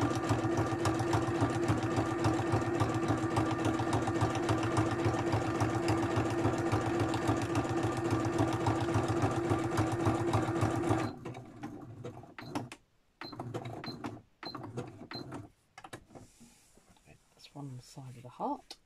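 A domestic sewing machine set to zigzag stitch (size 3 width, 1.5 spacing) stitches small art journals, its steady rapid mechanical whir running loud and continuous for about eleven seconds before stopping into short bursts and quieter handling noise.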